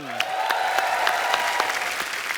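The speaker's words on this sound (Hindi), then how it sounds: "इनके लिए भी जोरदार तालियां" Studio audience applauding on a television comedy talk show, steady dense clapping at moderate level throughout, no voices over it.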